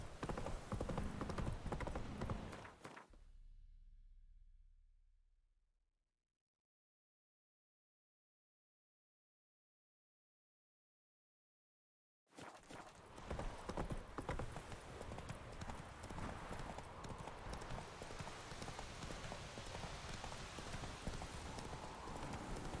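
Roach the horse galloping in The Witcher 3, rapid rhythmic hoofbeats up close that stop and give way to several seconds of silence, then resume with a dense pounding gallop until the end.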